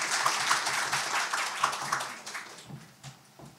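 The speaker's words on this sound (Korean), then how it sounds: "이석규 사무관님께 큰 박수 부탁드립니다." A forum audience at a Korean radiation-industry event claps, the sound dense at first, then thinning out and trailing off toward the end.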